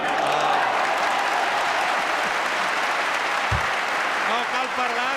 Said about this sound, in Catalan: vostès poden sentir la magnífica ovació ara del públic assistent al trinquet de Pelayo